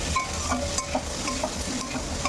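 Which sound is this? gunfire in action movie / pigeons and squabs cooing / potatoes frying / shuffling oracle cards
potatoes frying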